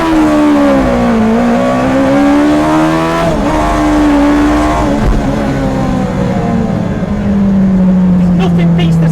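A Yamaha FJ1200 motorcycle engine fitted in a kei truck revs loud and close on a closed road, its pitch rising and falling through sustained high-rpm pulls, with voices talking over it.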